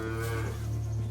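A cow in The Witcher 3: Blood and Wine lets out one long, sustained moo, loud and close, with no talk over it.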